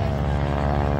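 A propeller airplane flying aerobatics at a small air show gives off a steady, loud, rough engine drone that holds without a break.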